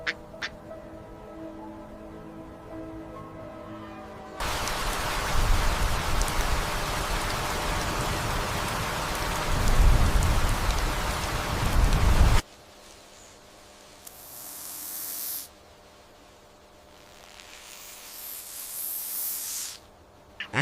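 A loud burst of heavy rain pounding on tree bark for several seconds, then it drops away to quieter dripping and gusty patches.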